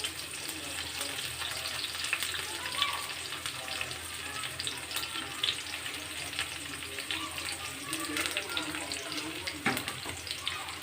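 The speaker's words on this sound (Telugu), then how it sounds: "వీటిని కొద్దిగా బ్రౌన్ కలర్లో వచ్చినంత వరకు వేసేద్దాము. సో మనకి కొద్దిగా ఎర్రగడ్డ పచ్చిమిర్చి తొందరగా వేగిపోతుంది" Chopped onions and green chillies frying for an Andhra chicken curry give a steady, close sizzle in a pan that runs throughout, with occasional faint clinks of stirring.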